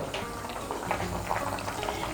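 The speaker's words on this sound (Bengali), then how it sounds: "এই দেখুন ঝোলটা ফুটে উঠেছে।" Curry gravy for a pointed gourd dhokar dalna simmering in a pot: a soft, steady bubbling and gurgle at low volume, continuous and close with faint popping bubbles.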